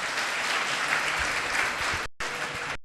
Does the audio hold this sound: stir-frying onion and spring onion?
no